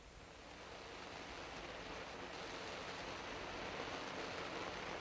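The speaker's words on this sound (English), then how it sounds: "And the other sounds of the monsoon rain pouring down." Monsoon rain pours down at night in a Vietnam jungle, a dense, steady broadband hiss that swells slightly in the first half-second and then holds constant, with no talking.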